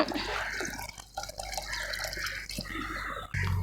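Water is poured into a pot of cooked lentils for South Indian sambar, a close, continuous splashing and trickling flow that briefly dips and then resumes, with no talking.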